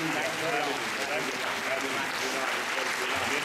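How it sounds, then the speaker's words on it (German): Church congregation applauding during a German-language worship service, a dense, steady wash of clapping filling the whole stretch with voices mixed in. "Dem Herrn einen großen Applaus."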